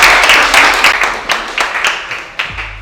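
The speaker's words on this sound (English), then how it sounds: "let's give a round of applause to Brian" An audience applauds a coach at a business mindset event. The clapping is dense and continuous and fades slightly over a few seconds.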